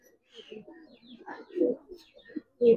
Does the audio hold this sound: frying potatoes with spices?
no